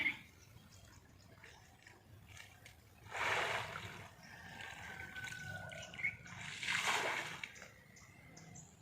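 Water splashes and sloshes as a man catches fish in a rural pond, with two louder bursts of splashing over a soft background trickle.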